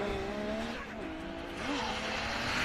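A British Drift Championship pro car leaves the line at full throttle at Teesside, its engine howling loud and close with rising and falling pitch, tyres squealing beneath it.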